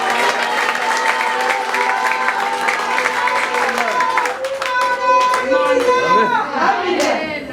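A church congregation applauds loudly while voices shout and sing over the clapping, the dense hand claps building toward the end.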